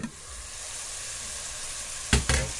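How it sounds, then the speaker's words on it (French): Minced beef for a bolognese sauce sizzles in a pan with a steady bright hiss, then two louder bursts of crackling and clatter near the end as the mixture is stirred, close by with no voices. "le mélange est en train de cuire"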